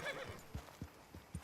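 Horse hooves clip-clopping in Red Dead Redemption 2, four evenly spaced muffled thuds of a slow walk, heard under a low ambient bed with faint game sounds at the start.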